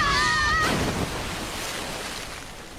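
A cartoon waterfall pours in front of a cave entrance, a loud, steady roaring rush of water that fills the whole clip, with a brief high whistling tone over it at the start.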